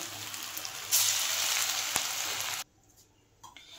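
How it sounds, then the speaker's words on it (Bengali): Steady, loud sizzling of bitter gourd fritters frying in hot oil, a bright crackling hiss that cuts off abruptly near the end, leaving near silence. "আমি এভাবে বড়াগুলো ভেজে নিচ্ছি।"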